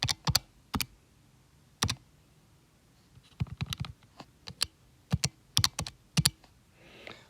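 Sharp plastic key presses on a calculator during a math lesson, coming in short irregular bursts of taps separated by pauses, close and fairly quiet with no talking.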